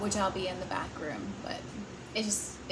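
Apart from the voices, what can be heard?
No everyday noise stands out behind the speech.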